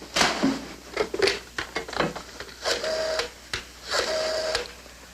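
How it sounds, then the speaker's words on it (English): A telephone number is dialed in a 1960s sitcom: repeated bursts of mechanical clicking and whirring, each followed by a short pause, close and fairly loud. "pick up that phone and dial Beachview 23598"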